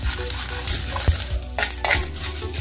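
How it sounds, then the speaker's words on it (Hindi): Mustard and fenugreek seeds crackle in hot oil for a besan dhokla tempering, giving a busy close-up sizzle with scattered pops and occasional clinks of a spoon against the pan, with no talking. "सरसों के दालों को थोड़ा सा क्रैक कर लेंगे ताकि अच्छे से ये भून जाए।"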